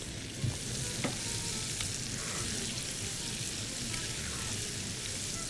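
Flour-coated chicken pieces deep-frying in oil, a dense continuous bubbling sizzle at close range with an occasional faint tap, otherwise steady and free of speech.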